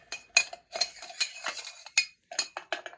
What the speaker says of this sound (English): So we're going to stir that around, make sure that's well mixed